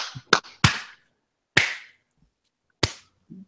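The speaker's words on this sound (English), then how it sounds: "Clap, you guys. Clap." A few scattered, sharp claps ring out from a small group, isolated and close with long silent gaps between them, sounding sparse and half-hearted.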